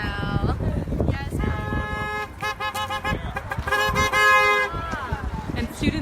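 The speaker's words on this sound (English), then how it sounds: "cars driving alongside the students have been honking." Passing cars honk their horns while driving alongside a group of students, several toots and longer blasts layered over street noise, fairly close and loud, with voices talking underneath.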